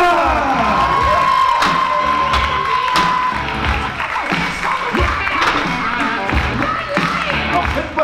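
A comedy club crowd claps and cheers loudly for a contestant, with whoops and shouts over dense clapping that runs throughout, close and lively, and a few voices calling out in the mix.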